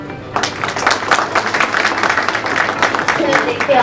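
Audience applause at an awards ceremony in Indore, a dense patter of many hands clapping that starts abruptly and keeps up steadily and loudly to the end.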